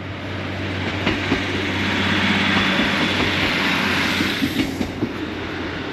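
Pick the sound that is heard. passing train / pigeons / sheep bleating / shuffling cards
passing train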